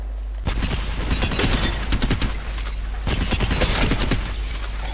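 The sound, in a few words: weapon gunfire during aim practice in a video game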